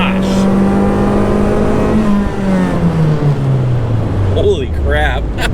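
A big-turbo Mazdaspeed3 engine revs hard and climbs through rising pitch, shifting gears as it accelerates, loud and close throughout.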